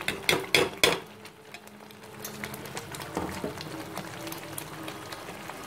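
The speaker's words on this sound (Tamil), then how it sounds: "இது பாருங்கள் அப்படியே கொதிக்கும் நீங்கள் மூடி கூட வச்சுக்கலாம் மேலே தெரிக்கும்" Fish sambal bubbling and sizzling steadily in a pan, with a few sharp clatters at the start, close by and moderately loud.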